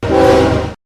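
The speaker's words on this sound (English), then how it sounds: "Train." A sound-effect train blasts its horn in one short, steady, tonal burst of under a second over a rumbling rail-car bed, with no other sounds.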